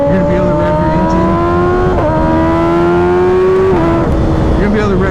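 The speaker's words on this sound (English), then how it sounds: "You're gonna be able to rev your engine." A 2024 Kawasaki Ninja ZX-6R 636 sport motorcycle engine revving loudly and close up, a sustained buzzing tone whose pitch climbs and dips through several throttle blips.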